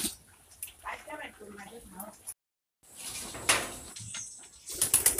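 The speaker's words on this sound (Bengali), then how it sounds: "কবুতরের বাচ্চা" Soft cooing from a pigeon chick, faint and intermittent beneath people chatting close by on a rainy day.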